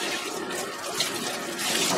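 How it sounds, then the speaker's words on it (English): Tap water runs steadily into a jacuzzi bathtub being refinished with epoxy, a close, continuous broadband splashing hiss with no talk. "Now I'm going to turn the water back off."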